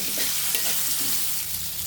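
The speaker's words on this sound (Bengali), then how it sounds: "আমরা ওই তেলের মাঝে এখন আলুগুলো একটু ভেজে নিব" Potato pieces frying in oil with salt, turmeric and chili powder, a steady close sizzle with soft stirring scrapes running throughout and no talking.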